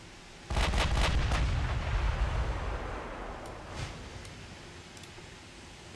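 Naval gunfire in the game Ultimate Admiral Dreadnoughts bursts in as a sudden loud boom of shell hits, then decays into a rumbling tail with a few faint ticking clicks afterward.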